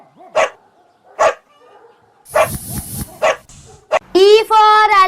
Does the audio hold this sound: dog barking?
yes